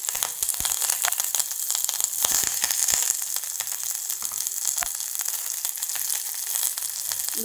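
Mustard seeds and fenugreek fry in hot coconut oil for a Nagercoil-style curry, giving a steady close sizzle dotted with sharp popping crackles throughout.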